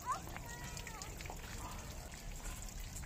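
Water trickles steadily from drip irrigation lines in a grape vineyard, a soft continuous hiss and patter with faint voices underneath.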